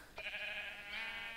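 Sheep bleat on a sheep farm in a Minecraft modpack game, one short bleat followed by a longer, drawn-out one, fairly clear against quiet background.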